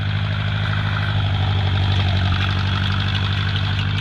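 A tractor engine runs steadily during hay making on a farm, a constant low rumbling idle-like drone that stays loud and close throughout with no talk.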